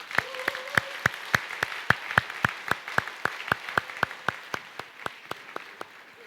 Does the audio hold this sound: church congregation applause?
yes